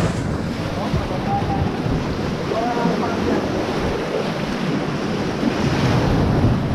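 Ocean waves breaking steadily at a beach fishing spot on Guam, a loud continuous wash of surf mixed with heavy wind buffeting the microphone, with no clear pauses.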